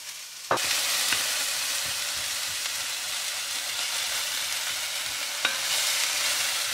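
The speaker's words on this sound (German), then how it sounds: "dann braten wir zuerst die Zwiebeln mit dem Brokkoli an" Onions and broccoli frying in a pan, a steady close sizzle with a few sharp clicks of stirring, no voices.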